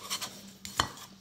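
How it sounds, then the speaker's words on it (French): Metal forks are handled to pick up small items at a diamond-painting craft table. There are a few quiet, brief clinks and taps, with one slightly sharper click in the middle. "les fourchettes ne me servent pas qu'à manger, elles me servent même à attraper les trucs"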